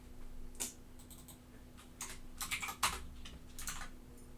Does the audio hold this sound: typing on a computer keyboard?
yes